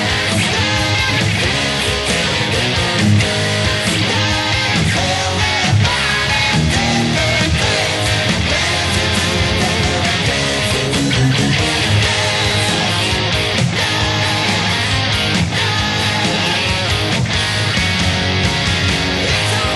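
Electric guitar chugs through the chorus rhythm in a dense, loud, continuous full-band-style stream of driving strums and accents, with no talking.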